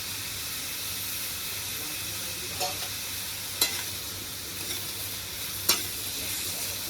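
Salt and turmeric powder frying in a pan for a picnic meal in a new kitchen, with a steady close sizzle and a few sharp scrapes of a spoon as the mixture is stirred, no talking.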